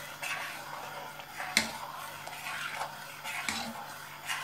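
Cream being stirred into a milk mixture in a pot for homemade ice cream, a soft continuous scraping swirl with a few sharper clinks of utensil against the pan, close and alone without talk.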